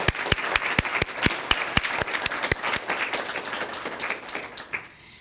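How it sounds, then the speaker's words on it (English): An audience at a 2016 election panel discussion breaks into sustained applause, many hands clapping steadily with sharp individual claps standing out, then fading to quiet at the end. "Let's give the panel one more round of applause."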